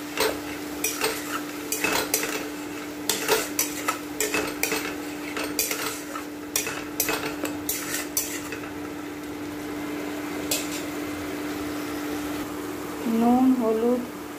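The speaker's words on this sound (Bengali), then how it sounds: "এটাকে ভালোভাবে কষে নেব।" A metal spoon scrapes and clatters against a pan as ground spice paste with bay leaf, salt, turmeric, sugar and Kashmiri chilli powder is stir-fried in oil, with rapid repeated strikes and a steady faint sizzle underneath.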